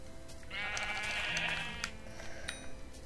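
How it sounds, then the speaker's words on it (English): A sheep in the Minecraft video game gives a single drawn-out bleat, clear and fairly close, followed by quiet background. "There's a sheep."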